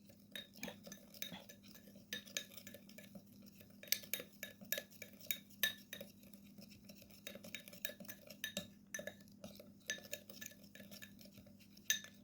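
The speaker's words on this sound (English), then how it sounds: "Mix well the ingredients." A spoon stirring a sea salt and coffee mixture in a small dish, with light repeated scraping and clinking strokes against the bowl, close and fairly quiet with steady hum beneath.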